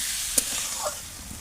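New potatoes sizzling in oil for a Bengali aloo dum while being stirred, a soft continuous hiss with a brief scrape or clink from the spoon.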